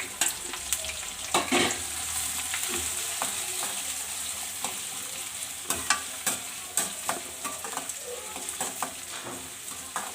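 Chopped onions, two medium ones, sizzle steadily in a pan while being stirred, with scattered scraping clicks of the spoon over a constant close frying hiss.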